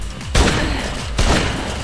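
Two sharp gunshots ring out in the Dead Rising 2: Off the Record video game, each a loud booming crack with a rumbling tail, spaced about a second apart.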